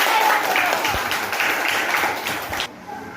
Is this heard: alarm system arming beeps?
no